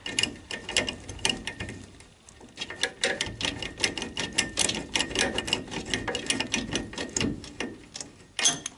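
Bolts are tightened on the rear axle of a Citroën Traction 11 during reassembly: a close, busy stretch of rapid ratcheting clicks and metallic rattling, continuous for several seconds with brief pauses.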